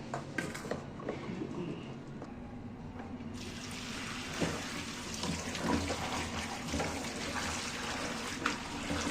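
Water splashing and trickling as cluster beans are swished and rinsed in a filled container, a continuous wet sloshing up close.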